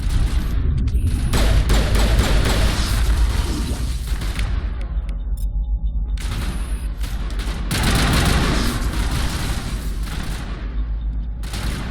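Sustained automatic gunfire in Mass Effect, dense rapid bursts with booming impacts, pausing briefly before resuming loud and close.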